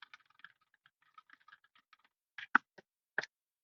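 Keys tapping on a computer keyboard while a search query for two-bedroom, two-bath properties is typed into a chatbot, a scattered run of light clicks followed by a few louder, sharper keystrokes near the end.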